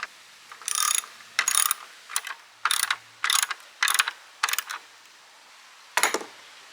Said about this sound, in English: It's just a matter of putting it in until it goes and then ratcheting it in place.